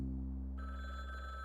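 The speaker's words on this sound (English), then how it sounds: "oh, there's a phone in here ringing." A telephone rings inside the Frog Detective video game, a sustained electronic bell tone with steady harmonics, clear and alone with no talking.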